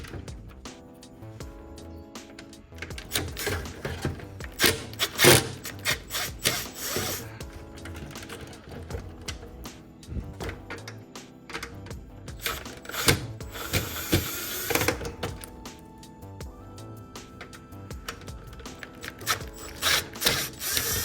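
Screws being backed out of the dash trim on a Jeep Patriot during a car radio install, a driver ratcheting in repeated short bursts with clicks and scrapes, fairly close and loud throughout.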